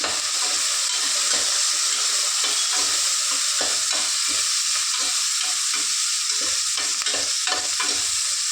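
Curry sizzles in a hot pan with a steady, dense hiss, broken up by repeated scraping and stirring strokes, close and continuous with no voices.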